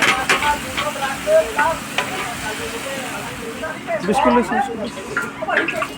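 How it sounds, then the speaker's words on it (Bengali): Leafy greens frying in a pan in a village cooking setting, a moderate sizzle with stirring under near-constant talking and background voices. "শাক ভাজার জন্য এটা মামা ঠাকুর ঢেলে দিল এরপরে কিছুক্ষণ নাড়ার পরে আমাদের এই শাক ভাজিটা প্রস্তুত হয়ে যাবে"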